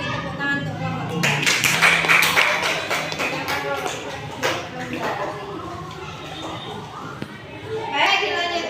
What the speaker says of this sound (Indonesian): Sekarang kita beri tepuk tangan untuk kelompok 3